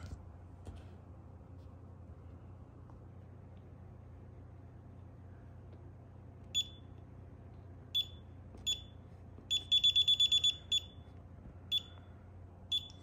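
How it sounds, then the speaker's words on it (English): Faint room hum inside a generator building, then an intrusion alarm's high, sharp electronic arming beeps begin, spaced apart, then quicken into a fast cluster before slowing to single beeps again. "I'll wait in here until it starts beeping really fast."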